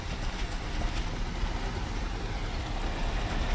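Vehicle engine in the shooter game Operator, a steady low rumbling drone that holds constant and fairly loud for the whole stretch, with no talk over it.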